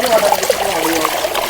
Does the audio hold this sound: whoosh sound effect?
no